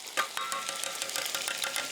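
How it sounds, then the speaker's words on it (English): Melted butter is stirred in a pan with a spoon, a soft crackling sizzle with quick rhythmic clicks and scrapes of the spoon, close and fairly quiet, without talk. "I want you to stir this right here now."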